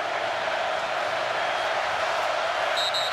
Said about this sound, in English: Oklahoma crowd has come alive here.